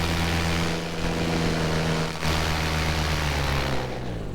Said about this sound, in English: carb icing yet again, and I'm trying to nurse it back to the landing field